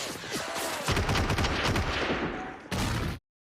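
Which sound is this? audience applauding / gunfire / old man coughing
gunfire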